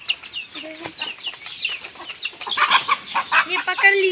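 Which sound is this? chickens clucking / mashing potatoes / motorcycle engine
chickens clucking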